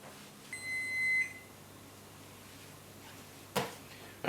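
Instant Pot timer during hard-boiled egg cooking: a single clear electronic beep of about a second, close by over quiet room noise, followed later by brief clatter.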